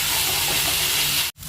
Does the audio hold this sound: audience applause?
no